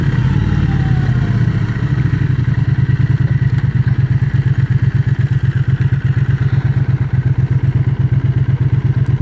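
A Triumph Speed Twin 1200 café racer motorcycle engine runs steadily while riding, a loud, close, even throb with a rhythmic pulsing beat and wind noise, no talking.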